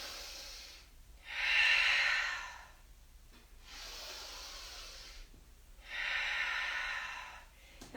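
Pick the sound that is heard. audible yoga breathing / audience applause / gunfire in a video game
audible yoga breathing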